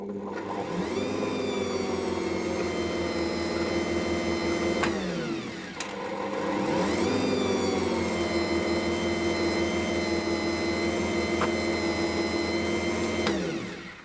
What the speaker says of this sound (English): I'm going to mix that just on a low speed until it becomes a shaggy dough